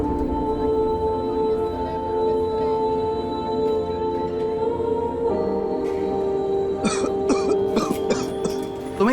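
A worker in a shop coughs in a short cluster of rough, hacking bursts near the end, set against a steady background hum of music.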